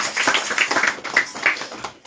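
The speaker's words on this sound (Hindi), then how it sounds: "चलो इनके लिए तालियां हो जाए।" Audience of parents and children at a school PTA gathering clapping, a brisk scattered patter of hand claps lasting a couple of seconds at moderate loudness.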